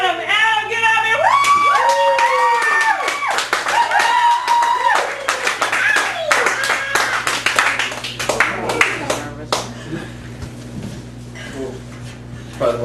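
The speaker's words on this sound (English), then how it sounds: "Probably the most applause I've ever gotten." An audience at an open-mic poetry night in a cafe gallery claps and cheers loudly, with whoops and shouted voices over dense applause that thins out toward the end.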